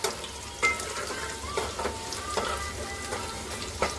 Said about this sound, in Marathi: लसूण झाली टाकून चांगली तिला परतायची